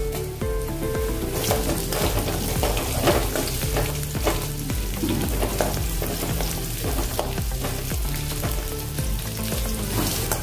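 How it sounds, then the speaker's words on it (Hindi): Green chillies fry with ginger and garlic in hot oil for veg Manchurian, a steady, close sizzle and crackle with occasional stirring scrapes and no talk. "अभी इसमें हम हरी मिर्च डाल देंगे।"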